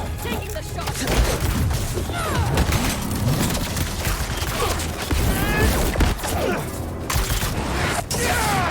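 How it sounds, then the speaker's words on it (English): Enemy gunfire crackles in Spider-Man 2, with scattered shots, bursts and booms from video game combat mixed with whooshes and effects throughout, while voices talk over the action. "Can you stop shooting me?"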